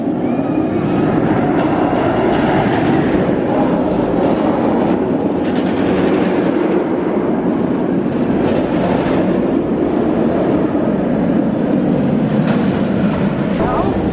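Roller coaster train at Busch Gardens Tampa Bay passing overhead, a loud, continuous rumbling roar with rattling clatter lasting throughout, with people talking underneath.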